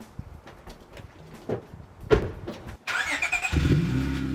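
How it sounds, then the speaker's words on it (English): A car heard at close range: a few scattered thumps and knocks, then a door-like slam, and finally an engine that rumbles up and keeps running steadily, with no talk. "This is a car."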